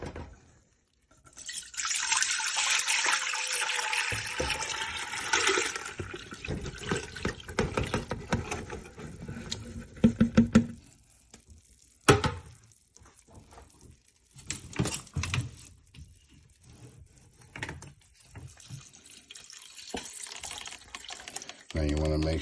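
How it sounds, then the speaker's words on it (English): Spring water pours and splashes into a pot in bursts, with pauses and clatter between, fairly close. "I'll add a little bit more spring water to top it off"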